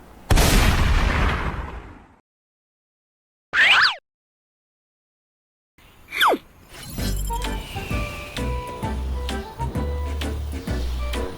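G36 rifle in a video game, a loud burst that decays into silence, a short mechanical clack, a swishing sweep, then a run of repeated gunshots and game sounds layered with music-like tones, no voices.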